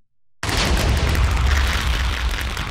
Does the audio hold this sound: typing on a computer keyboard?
no